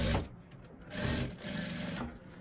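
A sewing machine stitching an elastic band onto trousers, its needle buzzing in a fast steady whir with brief pauses and restarts as the stitching stops and resumes.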